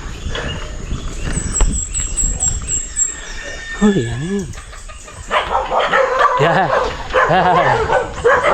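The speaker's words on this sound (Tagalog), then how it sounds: "Daming aso." Several dogs bark, yip and whimper in a hillside area of Upper Ipilconig with burned mountains, the calls coming in uneven bursts at mid distance while people talk over them.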